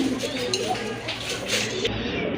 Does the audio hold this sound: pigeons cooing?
yes